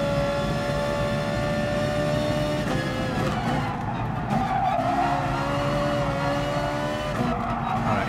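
A GR.4 race car in Gran Turismo Sport at Suzuka gives off a continuous high-pitched engine whine, the pitch sliding as it shifts and revs, with tire squeal, loud and unbroken throughout.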